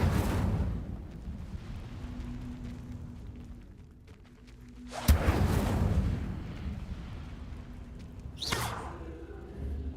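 Fire spell blasts in Hogwarts Legacy: a broad whooshing burst at the start, a louder flaring boom midway with a roaring tail, then a sharp swish near the end, over a low game ambience with no talk.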